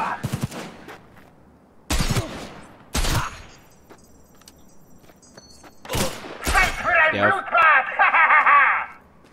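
Sniper fire in Cyberpunk 2077: several sharp, loud shots come in scattered single cracks and close pairs with quiet gaps between them, followed by a burst of talking and laughter.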